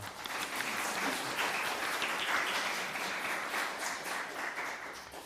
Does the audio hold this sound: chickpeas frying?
no